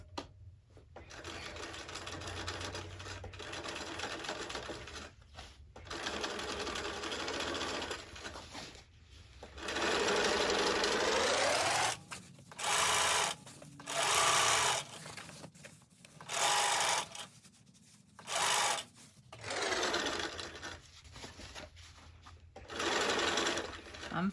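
A sewing machine stitches along the edge of a fabric lunch bag, running in long continuous passes and then in short separate bursts, with a close mechanical hum and rattle and speech faintly audible underneath.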